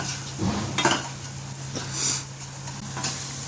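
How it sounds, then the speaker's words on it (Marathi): Semolina roasting in ghee in a pan, a soft hiss with a few scraping stirs and light utensil touches, close and moderately loud. "रवा मस्त छानसा भाजून घ्यायचा आहे लालसर तुपामध्ये।"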